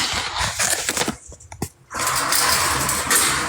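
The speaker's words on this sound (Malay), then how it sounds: "tahu tak sebab apa saya tak matikan motor" A motorcycle engine idles and runs steadily, close by and fairly loud, with a rattling mechanical texture and a short dip partway through.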